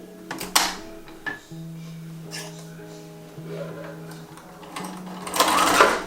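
Home sewing machine stitching a garment sleeve: a loud, close mechanical whirring hum in several runs with short stops between, plus clicks and handling noises.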